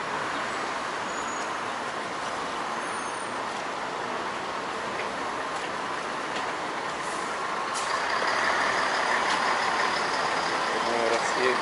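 City buses pass along a street in Kalininingrad's Central Park area, a steady rumble of heavy engines and traffic with a hiss of air brakes, growing louder near the end.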